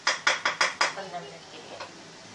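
A metal lid set over a pan of mixed vegetable curry makes a quick run of five sharp clanks, followed by a few softer knocks as it settles, close by, with some speech.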